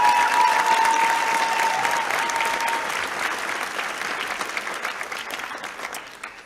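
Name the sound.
audience applause at graduation ceremony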